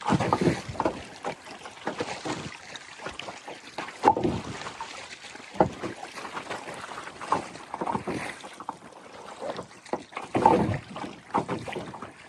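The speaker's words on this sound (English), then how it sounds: "Just power through the waves here." Kayak paddled through wind-driven waves against strong gusting wind, with repeated splashes and sloshing water under steady wind rumble on the microphone, close and moderately loud.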